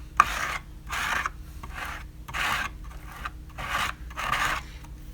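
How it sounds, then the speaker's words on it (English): Palette knife working thick Metallix gel paste through a stencil, six rhythmic rasping scrapes close by, each lasting about half a second with brief pauses between, no voices. "you just put it on a palette knife and you just work it through your stencil"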